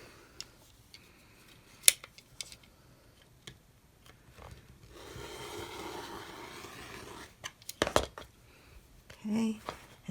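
Quilt fabric being cut into 5.5-inch pieces, with scattered sharp snips and a soft sliding scrape midway, fairly quiet and close, with some short clicks and handling noises between cuts.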